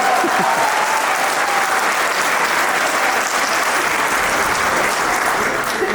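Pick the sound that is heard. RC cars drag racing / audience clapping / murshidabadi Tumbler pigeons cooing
audience clapping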